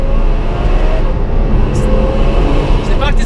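Ferrari F12 fitted with an Innotech IPE exhaust, its valves throttling back, droning steadily from inside the cabin as a low, constant engine rumble with wind noise and a voice talking over it.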